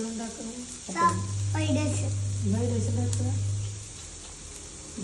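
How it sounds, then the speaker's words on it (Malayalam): Onions frying in a pan give a steady hiss through the whole stretch, with a low hum beneath it. A child and an adult talk over the sizzle. "സബോള പൊരിക്കുക."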